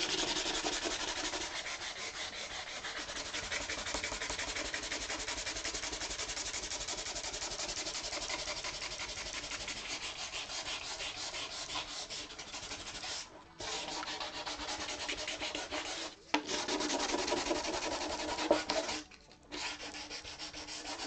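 Hand sanding of wood with sandpaper for a painted panel: a steady, loud, continuous rasping scrub with rapid back-and-forth texture, broken by a few brief pauses near the end.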